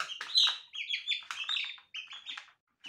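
A lone young chick cries loudly and insistently, a string of shrill, high chirps in rapid, uneven bursts with short gaps, close and alone without voices.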